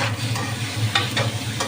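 Green chilies and tomatoes fry in a pan for a bottle gourd and shrimp curry, giving a short, steady hiss of sizzling oil with a few soft stirring taps close by.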